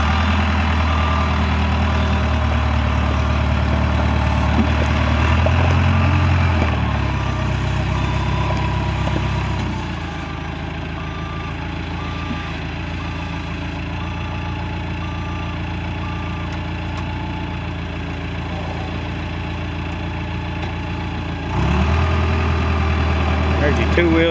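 A 2001 SkyTrak 6036 telehandler's diesel engine idles steadily and close by, its low rumble dropping slightly midway as it keeps running, then rising again near the end, with no talk over it.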